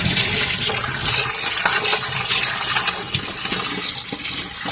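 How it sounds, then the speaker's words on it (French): Cold water gushes from a kitchen tap into a pot, a loud and steady close splashing rush that lasts throughout with no speech. "Je vais juste mettre de l'eau froide dedans."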